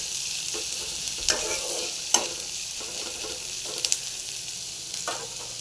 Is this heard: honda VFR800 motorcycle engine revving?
no